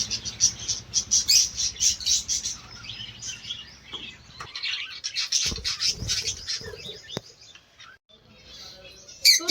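Pet budgerigars kept as a hobby chirp in rapid bright bursts, a busy flock calling close by with short gaps and a few flutters.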